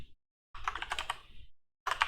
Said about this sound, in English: it also helps me with touch typing practice